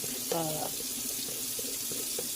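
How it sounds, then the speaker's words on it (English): Hot water runs from a kitchen sink tap into a big cup, a steady close rushing stream throughout, with a brief louder splash early on. "So let's come over to the sink. Get my water hot here"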